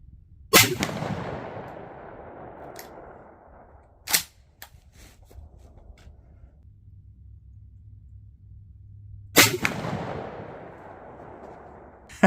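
Two loud, sharp shotgun blasts from a Remington 1100 firing slugs at a target, spaced several seconds apart, each booming and decaying over a low rumble, with a couple of faint clicks between them.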